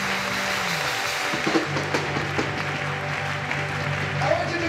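A church congregation claps along, a loose patter of hands rising under a preacher's amplified voice while a sustained organ-like tone drops and holds in the background.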